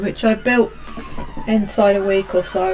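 An emergency vehicle siren wails outside, faint and partly masked beneath someone speaking close by indoors.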